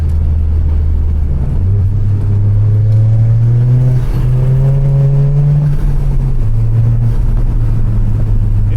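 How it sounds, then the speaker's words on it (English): A tuned Toyota GR Corolla accelerates hard on a loose surface, its engine and intake note rising loudly and steadily through the revs, with a brief shift before climbing again, close and continuous with no voices. "with these intake noises, it's awesome"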